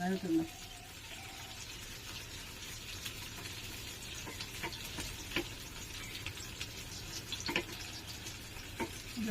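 Chicken kebabs frying in a pan, crackling sizzle with scattered pops and scrapes of stirring, while people talk nearby.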